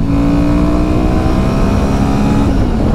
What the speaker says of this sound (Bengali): চলো বাইকটাকে একটু টানি আমরা